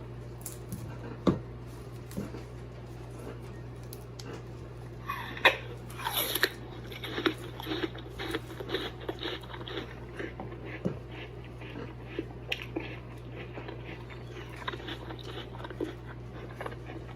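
Food being mashed and mixed close up as a model of chewing, with irregular squishy, crunchy pokes and scrapes over a steady low hum, fairly faint and without talking.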